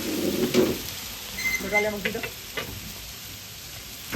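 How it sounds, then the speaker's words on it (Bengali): Chap meat being stirred and fried in a large pot for kala bhuna, with sizzling and scraping strokes in bursts, fairly close, and voices briefly talking. "এটা চাপের মাংস রান্না হবে"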